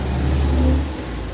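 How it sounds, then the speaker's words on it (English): A truck rolls past on a road outdoors, a steady mid-pitched engine rumble holding loud and near before easing off and fading toward the end. "Excuse this truck passing by."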